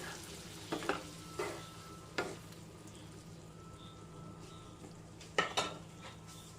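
Cooked yam and onion mix stirred into a curry in a pan, heard as a faint steady simmer broken by a few sharp scrapes and clinks of a spoon against the vessel. The scrapes are spaced out and nearby, with no speech.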